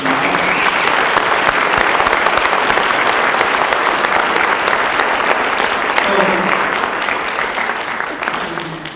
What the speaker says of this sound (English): let's give another round of applause to Dr.